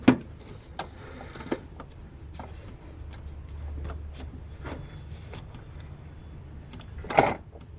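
Wrench rotating the belt tensioner counterclockwise on a 2005 Honda Odyssey 3.5L, a few sharp metallic ticks and clunks over a low steady hum, close and fairly quiet, ending with a louder knock.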